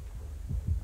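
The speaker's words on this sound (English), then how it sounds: "And I've got a heartbeat" The killer's heartbeat warning in the video game Dead by Daylight gives two deep, muffled thumps close together over a low hum, with no talk.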